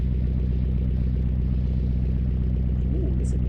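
A 60-degree engine in the Automation car game idles steadily with a low, even rumble that holds at a constant level the whole time, with no clear start-up surge.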